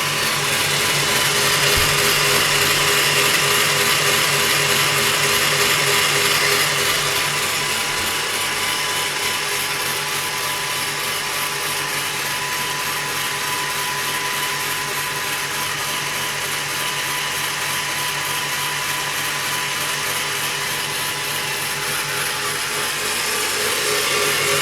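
Electric mixer whipping egg yolks and sugar for artisanal ice cream, a loud, continuous high whirring drone that holds steady throughout with no pauses, close up and with no talking.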